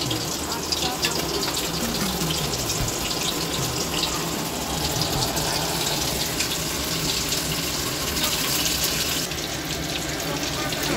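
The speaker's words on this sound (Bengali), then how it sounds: "এইভাবে ভাজতে থাকবো" Besan-coated fish chops fry in hot oil, a steady dense sizzle that holds at a constant level throughout, with faint speech in the background.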